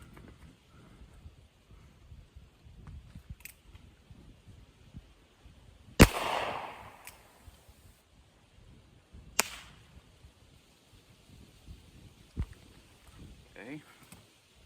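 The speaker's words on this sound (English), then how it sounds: "got the 1851 Navy loaded up with the homemade percussion caps" An 1851 Navy revolver fires on homemade percussion caps: one sharp loud crack stands out, with a few smaller pops and clicks scattered through a quiet outdoor stretch.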